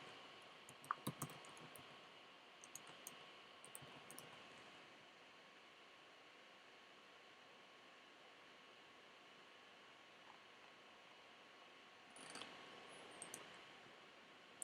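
A computer keyboard is typed on in short bursts of faint clicks and key taps over a quiet hiss, with a longer gap between bursts and a final cluster near the end.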